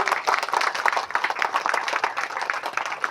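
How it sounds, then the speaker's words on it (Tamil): Audience applause at a Tamil speech event, with many hands clapping in quick, uneven bursts at a steady, moderately loud level. "கைத்தட்டல மட்டும் கஞ்சத்தனை வைக்க கூடாது."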